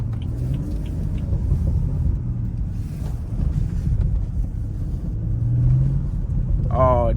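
BMW 335i F30 engine and exhaust while driving on snowy roads, a steady low rumble throughout with wind noise, swelling slightly near the end as a brief rising whine cuts in.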